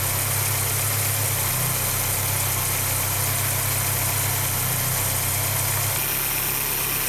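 A 1980s Volkswagen Rabbit engine with CIS fuel injection idling steadily while warming up, a constant low rumble and vibration with no talk, holding even throughout with a slight shift near the end.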